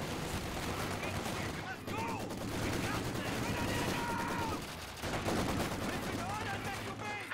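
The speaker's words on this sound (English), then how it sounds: "shots are fired" Gunfire in a Company of Heroes 2 battle, dense crackling volleys and rattling shots running continuously under a busy, noisy wartime soundscape with distant shouts.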